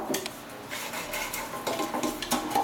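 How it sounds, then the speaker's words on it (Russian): Scraping and light clinking from oiling a square metal baking pan, irregular brushing strokes close up with small taps, quiet and with no talking. "Смазываю форму маслом."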